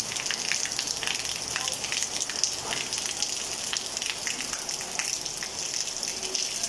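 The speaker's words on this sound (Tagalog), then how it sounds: "Ayan ang lakas ng ulan." Heavy rain pouring down at an elementary school in the Philippines in a dense, constant hiss, with splashing drops close by and no letup.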